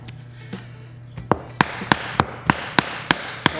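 A machete chops repeatedly into a steel-toe shoe, about nine sharp, close strikes speeding into a steady rhythm after a few scattered hits.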